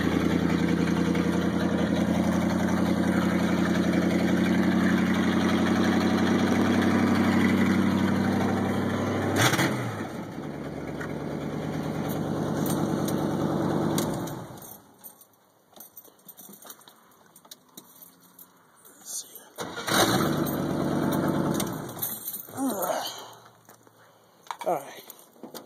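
An '85 fitted with a K20 engine idles after a cold start, a steady loud rumble for about fifteen seconds that then cuts off, followed by quieter intermittent engine bursts and clatter.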